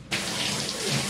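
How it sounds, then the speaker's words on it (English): Steady rush of water from a detached handheld shower head aimed at a bathroom wall, starting abruptly after a brief pause and running continuously and fairly loud, with no talking. "I'm just using the detached shower head here to get her going"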